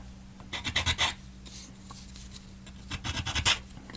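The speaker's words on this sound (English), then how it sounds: "I say this is probably pointless to sand these down in the gears" Plastic gears of a ROKR model locomotive being sanded by hand, bursts of quick rasping strokes in two clusters separated by a quieter pause, close and fairly soft with no talk.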